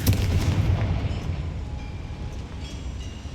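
A Confringo fire spell in Hogwarts Legacy bursts into a loud, rumbling explosion that opens with a heavy blast and then fades into a long, dense roar.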